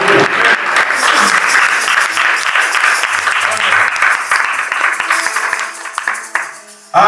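Church congregation at an evangelical thanksgiving service in Melun applauding, dense sustained clapping from a large crowd that fills the room, loud and steady before tapering off near the end with some voices mixed in.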